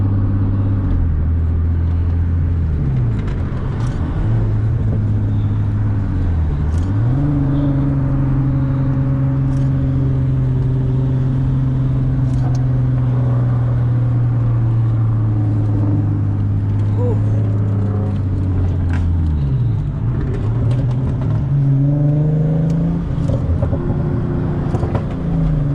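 Cars rumble along on a practice cruise ahead of the 2020 KDM cruise, with a steady close engine drone that shifts pitch as the vehicles speed up and slow down and continues without a break.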